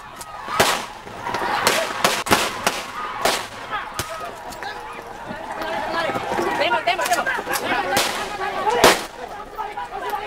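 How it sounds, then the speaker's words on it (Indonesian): Several sharp police gunshots crack out at irregular intervals over a noisy crowd blocking a road in Indonesia, with shouting voices throughout. "Polisi melepaskan tembakan karena terdesak oleh tindakan warga yang cenderung anarkis."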